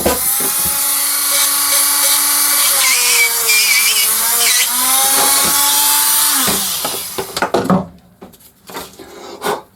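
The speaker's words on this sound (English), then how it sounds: "I want to just drill out where the" A power drill bores into the plastic casing of a Renault remote key. It makes a loud, steady high-pitched whine with pitch shifts as it bites, then stops, leaving a few clicks and handling noises.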